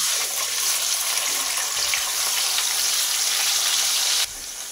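A ground paste of ginger, tomato and cumin sizzling in hot oil, giving an even, close frying hiss that drops off abruptly near the end, with no speech.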